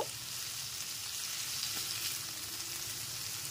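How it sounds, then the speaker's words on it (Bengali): Chopped onions fry in oil in a pan, giving a soft, steady, even sizzle throughout, fairly quiet and close, with no one speaking. "পেঁয়াজ কুচিগুলো দেওয়ার পর পেঁয়াজ কুচিগুলো একটু তেলের ওপর ভেজে নেব।"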